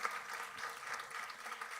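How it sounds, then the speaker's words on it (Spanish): Audience applause at a rural women's day event in Tauste, a steady wash of clapping from a crowd, moderately faint and continuous, with no voices over it. "un aplauso grande"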